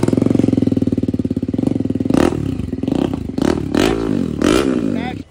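BMW G310 RR motorcycle fitted with an SC Project full-system exhaust, revving up from a rapid pulsing idle in several loud, close throttle blips with rising and falling pitch.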